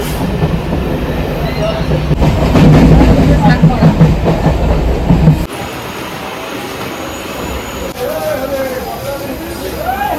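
A Bongaon local commuter train rolls along the rails with a steady loud rumble and clatter, dropping to a quieter hum with a faint squeal partway through; a voice speaks briefly over it.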